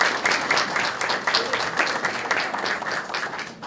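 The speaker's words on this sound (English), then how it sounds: "Let's give him a round of applause." Audience applause at a grand opening for an arts school building, steady dense clapping from a sizable crowd lasting several seconds and fading slightly at the end.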